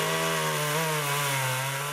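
Chainsaw cutting cypress logs, a loud continuous buzzing whine held close throughout, with no talk.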